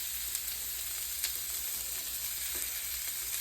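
Carrots, peppers and orange peel sautéing in a pan give a soft, steady sizzle with faint crackles, low and even throughout.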